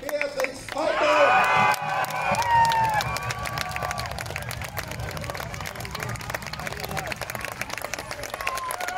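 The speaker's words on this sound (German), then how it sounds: "wir gratulieren ganz herzlich mit einem starken, großen Applaus der Beatrix Piper" A crowd claps and cheers for a first-place winner at a Highland Gathering, with a loud burst of applause and whoops early on that settles into steady clapping.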